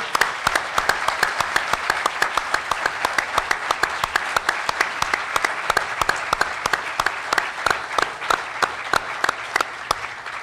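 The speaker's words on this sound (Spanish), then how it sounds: "Sí, un aplauso, por supuesto." Audience applause fills a formal honorary doctorate ceremony for a sculptor at a university in San Luis Potosí, a steady dense clapping from a large crowd, loud and sustained throughout without pause.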